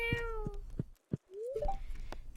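A cat in the farming game Stardew Valley gives several short meows in a row, followed by a rising, drawn-out mew, close and clear.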